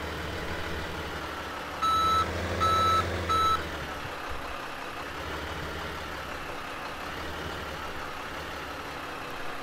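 A Kenworth dump truck in Farming Simulator 17 idles with a steady low engine drone while three loud reversing beeps sound in quick succession early on, then the engine continues alone.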